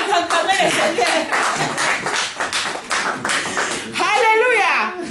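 A church congregation claps in applause to acclaim the Lord, a dense, loud, continuous patter of many hands with scattered voices rising over it toward the end.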